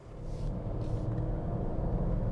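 An armored Mercedes GL550 SUV on the move, its engine and road noise forming a steady, close low rumble that holds evenly throughout, with no talking.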